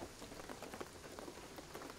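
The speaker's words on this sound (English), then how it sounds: "What I'm telling you is the rain is gonna flood it." Rain falls in the video game Shadow of the Tomb Raider, a faint, steady patter of drops with soft irregular taps, heard alone.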